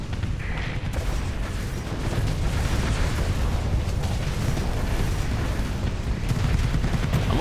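Ship broadside cannon fire in a video game: a continuous roar of overlapping booms and blasts, loud and dense throughout, building slightly in intensity, with no talking.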